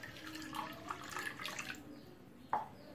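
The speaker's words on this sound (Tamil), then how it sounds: "ஒரு சாஸ் பேனில் தண்ணி ஆட் பண்ணிக்கோங்க." Water trickles and splashes into a saucepan for a couple of seconds, quiet and close, ending with a single drip-like plink.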